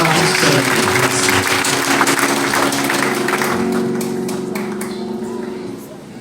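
Applause from a church congregation at a harvest festival service, steady and dense throughout with sustained musical tones and voices beneath it, thinning slightly toward the end.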